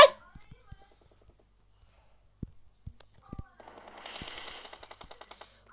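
Gunfire from the PUBG Mobile video game: a few scattered sharp shots, then a quick rattling burst of automatic fire, all fairly faint over the quiet game audio.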